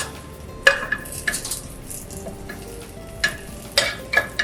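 Scrambled eggs and spinach cook in a pan with a soft steady sizzle, broken by a few sharp utensil taps and scrapes against the pan.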